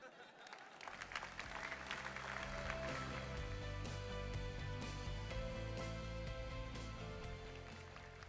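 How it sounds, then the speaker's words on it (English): A conference audience at the Atlassian Summit 2016 gives a round of applause that swells after a quiet start and holds as a continuous wash of clapping. Music plays over it. "Just one more massive round of applause for all our 7 entries, please."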